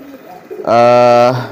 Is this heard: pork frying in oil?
no